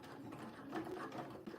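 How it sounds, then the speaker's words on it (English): A sewing machine runs steadily, topstitching along the edge of a jeans pocket, its quiet, even motor hum and rapid needle chatter continuing without pause. "sew our top stitching straight down from the top edge there along the edge of the pocket"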